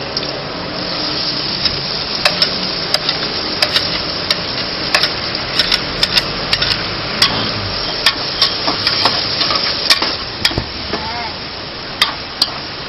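Onions sizzling steadily in a hot pan while a utensil scrapes and stirs, close up, with sharp clicks and knocks on the pan throughout.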